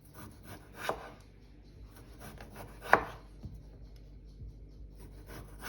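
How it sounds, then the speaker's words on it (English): Potatoes are chopped on a board for a roast, scattered knife strikes at close range, a few sharper cuts standing out among softer slicing and rubbing. "So I'm just quickly cutting these potatoes."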